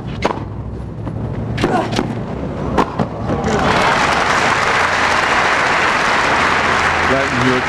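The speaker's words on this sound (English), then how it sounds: "Leighton Hewitt giving Stoltenberg a bit of applause." At a 1998 Adelaide men's tennis final, a few sharp thuds of play give way to a swell of crowd applause that carries on loudly to the end, with a commentator talking.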